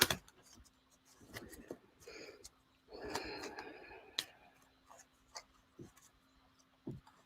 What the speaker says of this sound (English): Shuffle these one more time.